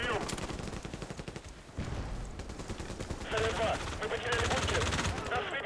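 Rapid automatic fire from the ACW-R gun in a video game, dense bursts of shots rattling continuously, with a player's voice talking over the gunfire.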